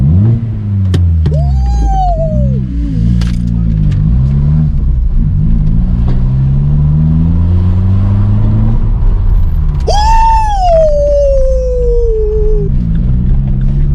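Vauxhall Corsa fitted with a cheap new straight pipe exhaust, driven hard with loud close engine drone rising and falling through revs, plus sharp whining squeals over the rasp.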